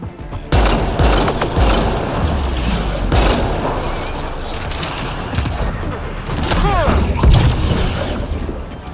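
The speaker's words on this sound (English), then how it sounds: "He detonated the EMP." Explosion as an EMP detonates in the sci-fi shooter Mass Effect: Andromeda, a loud booming burst amid continuous gunfire and combat noise, with voices briefly heard.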